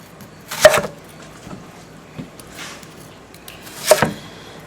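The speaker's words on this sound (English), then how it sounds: "Chunk up the onion" An onion is chunked with a knife, giving a few sparse, sharp chops close by, with quiet pauses between strikes and no talking.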